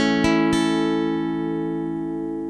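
A major chord strummed on guitar in an F-shape barre form, two quick strokes ringing out together and sustaining as they slowly fade, alone without talk.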